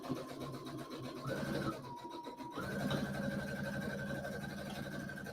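A home sewing machine runs steadily, stitching fabric with a back stitch set at about 3, pausing briefly midway before resuming a continuous motor whir.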